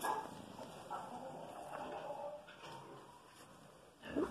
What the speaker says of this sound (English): they're growling on me.